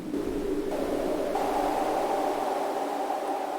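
Tuned noise waveform from a synthesizer oscillator: a steady, dense hiss with a resonant band that shifts slightly in pitch, sustained at an even, moderate level throughout with no other sounds.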